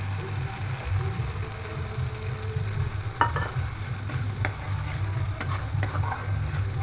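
Masala frying in oil in a pan as beaten sour yogurt is added for a doi katla fish curry, giving a steady close sizzle with occasional stirring clicks and no talk.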